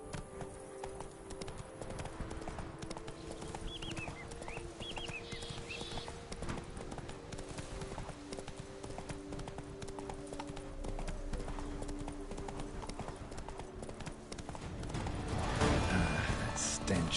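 Roach, Geralt's horse in The Witcher 3: Blood and Wine, gallops with a fast, steady clip-clop of hooves that continues throughout, with other game sounds layered over it and a swell in loudness near the end.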